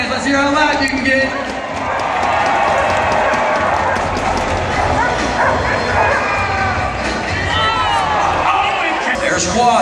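Loud crowd cheering and yelling at a dock dogs high jump competition, a dense sustained roar running the whole way through with voices and scattered dog barks mixed in.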